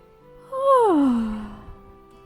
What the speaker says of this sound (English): Feigned yawn for immersion purposes.